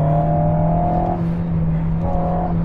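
An Alpine A110S sports car drives along at a steady, strong engine hum with a sustained tone, which fades briefly in the middle and then returns.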